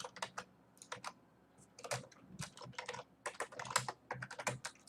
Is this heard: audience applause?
no